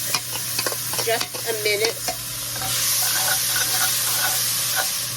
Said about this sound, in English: swirl of oil and then in with my carrots and onions